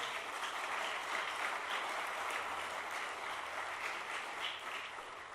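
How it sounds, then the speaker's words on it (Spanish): A church congregation applauds in a dense, steady wash of many hands clapping, sustained and even throughout with no talk on top. "Dele fuerte palmas al Señor,"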